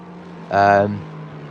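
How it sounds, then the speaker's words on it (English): A Porsche GT3 car with a flat-six engine in a sim racing game at Spa, a loud, harmonic engine note that swells as the car passes briefly, then drops back under a steady engine drone. "It's just a beautiful noise that Porsche makes, a flat six engine."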